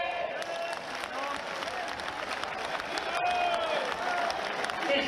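Audience applause at a Sanatan Hindu Ekta Padyatra gathering in Vrindavan, a steady wash of many hands clapping that holds and swells slightly toward the end, with crowd noise and a voice faintly underneath.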